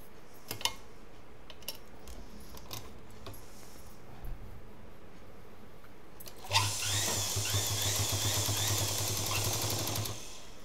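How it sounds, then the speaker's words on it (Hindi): A double-needle sewing machine stitches a cloth shopping bag, running steadily for about four seconds with a low hum and rattle. Quiet handling clicks come before it. "इस पर पलटते हुए पूरा सिलते हुए चले जाएंगे"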